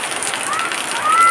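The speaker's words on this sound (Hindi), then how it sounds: "कितनी बारिश हो रहा है देखिए आप लोग, कितनी बारिश हो रहा है आप लोग देखिए, बहुत काफ़ी बारिश हो रहा है।" Heavy rain pours outside a flooded house, a loud, dense, steady rush of noise with a brief high tone near the end.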